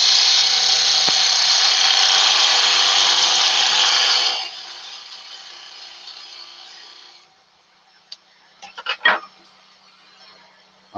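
A parting tool cutting into wood on a lathe gives a loud, steady scraping hiss for about four seconds, then a quieter spinning hum that fades, followed by a few faint knocks.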